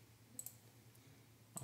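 A computer mouse clicking on a button in SAP Sales Cloud: a few faint, close, sharp clicks, a quick pair and then a single one, with no talking.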